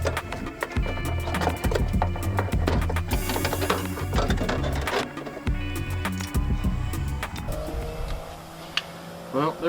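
Work inside a Toyota Corolla front passenger door to remove the window regulator brings close metallic clanks, rattles and scraping of parts, busy and irregular, with a brief motor-like whir near the end.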